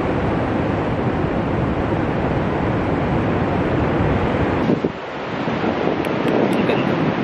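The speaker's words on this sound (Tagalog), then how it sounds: "Lalakas ng mga alon eh." Strong ocean waves roll onto the shore at Lingayen, Pangasinan, a constant heavy roar with a brief dip partway through, largely buried under loud, steady wind buffeting the microphone.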